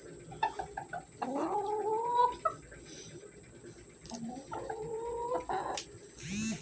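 Chickens cluck and make drawn-out, rising calls while pecking at a whole mango, a couple of close vocal phrases separated by quieter scratching and rustling.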